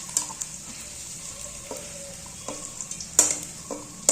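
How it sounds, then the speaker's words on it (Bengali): Chopped onion and ten or twelve garlic cloves fry lightly in oil, giving a steady soft sizzling hiss broken by scraping, clacking stirs of a spoon in the pan, fairly close and with no talk. "এই যে রসুন 10-12টা দিয়ে দিলাম। হালকা একটু ভেজে নেব।"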